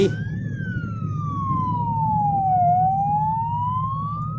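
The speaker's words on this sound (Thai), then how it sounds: "ไซเรนมาแต่ไกล" A police car siren wails from a distance, one slow rising and falling tone sweeping down and back up over a low traffic rumble, clear but not close.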